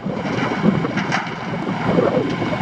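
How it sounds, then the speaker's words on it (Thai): Strong outdoor wind buffets the microphone in a steady, loud rumbling roar with gusty surges, and no voices are heard. "ลมแรงครับพัด"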